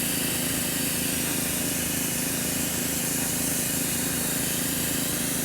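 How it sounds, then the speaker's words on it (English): An airbrush sprays Badger Stynylrez primer thinned about 15 percent, giving a steady, unbroken hiss at close range with no talking. "it's actually spraying down pretty well"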